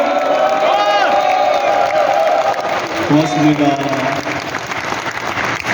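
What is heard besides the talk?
audience applause and cheering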